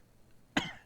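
One short, sharp cough, close by, after a moment of near silence.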